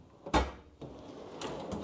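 A drawer in a Matco toolbox slides open with a sharp metallic clunk, then a softer rattle and a second bump follow, close and fairly quiet.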